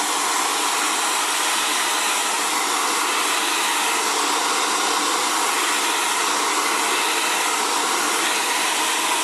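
An Xtava Allure professional ionic ceramic hair dryer runs steadily on curly hair, a loud continuous airy whoosh that holds nearly unchanged from start to finish with no talking.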